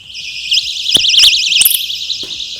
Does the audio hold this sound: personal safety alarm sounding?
yes